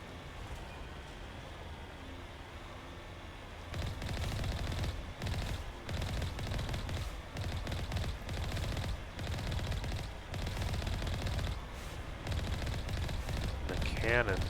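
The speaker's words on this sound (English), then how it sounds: "The cannon sounds so amazing." Cannon fire in Mass Effect Legendary Edition: after a quieter stretch, rapid bursts of heavy booming shots pound repeatedly, loud and close, with a voice talking over parts of the action.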